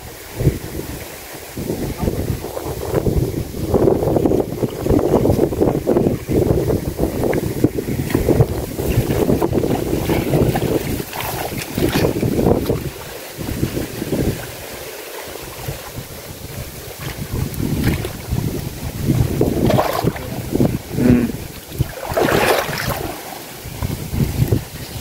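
Strong wind roars steadily over a cold open waterside where fish nets are being hauled in, rushing and gusting throughout with dense buffeting noise close to the microphone and no clear pauses.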